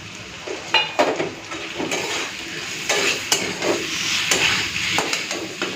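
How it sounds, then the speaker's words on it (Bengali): Spice paste frying with potato and papaya in a pan gives a soft, steady sizzle, punctuated by scraping and clanking of a spoon stirring against the metal, fairly quiet and close. "এখন এই মশলা বাটাটা দিয়ে দিচ্ছি"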